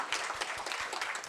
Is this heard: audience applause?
yes